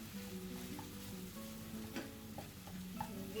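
A gram flour mixture fries in hot oil with asafoetida in a pan, giving a soft continuous sizzle broken by light scraping taps of a spoon stirring it, close and fairly quiet, with no talk.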